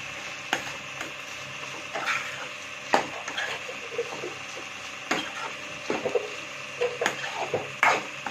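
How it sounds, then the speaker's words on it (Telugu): Prawns fry in a pan with a steady sizzling hiss, broken by repeated scraping and clanking stirs of a utensil against the pan at irregular intervals. "ఇలా ఫ్రై చేసుకోవాలి మనం."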